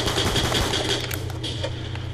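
Rapid gunfire from a pistol in Call of Duty Black Ops II pops in quick repeated bursts over a low in-game rumble, loud and close throughout.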